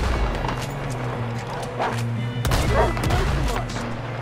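Gunfire rings out in a Red Dead Redemption 2 shootout, several loud shots and booms over a steady rumble, while characters shout urgently between the blasts.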